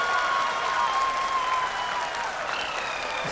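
Crowd applauding the Chandrayaan-3 Vikram lander's moon landing during a live telecast, a dense steady roar of clapping from many people with a faint tone running underneath.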